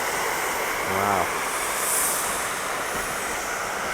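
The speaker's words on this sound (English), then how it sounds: "So they have got 2 trains running." A train passes on the Great Central Railway heritage line near Rothley station, with a standard class 5 steam engine nearby; a steady rumble and hiss fill the clip, with a brief low tonal swell partway through.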